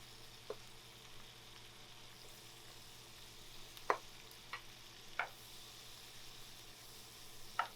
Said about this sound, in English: we got our vegan butter in the pan, and we are just gonna simply add our Brussels sprouts